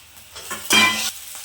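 Chow mein with peanuts stirred in a pan: a short, close burst of scraping and sizzling with a light clink of utensil on metal, fading after about a second.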